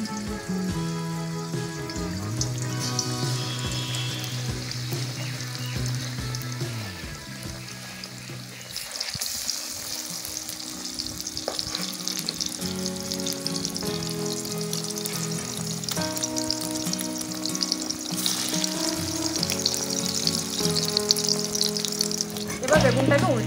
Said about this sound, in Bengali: এবার বেগুনগুলো ব্যাটারটা ডুবিয়ে ডুবিয়ে আমি একটা একটা করে ভেজে নেব।